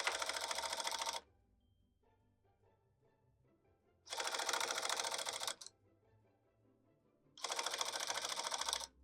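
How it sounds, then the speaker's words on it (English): A cut pile tufting gun punches yarn through backing cloth beneath long yarn loops, three loud bursts of rapid mechanical clattering, each a second or so long, separated by quiet pauses. "I wanna test and see if my cut pile machine, when I tuft under these loops, if my cut pile is gonna like cut the loops or get caught in it."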